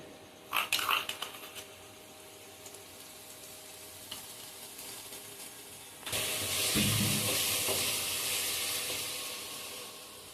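A poppy seed and cashew paste is added to spices frying in oil for a dahi rui fish curry, starting with a few clinks and then breaking into a loud, steady sizzle and hiss that fades slowly.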